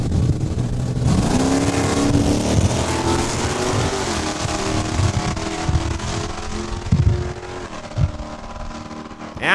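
Drag race cars launching off the start line at Saskatchewan International Raceway: a loud, sustained engine roar that climbs in pitch as the cars accelerate away down the quarter mile, with no talk over it.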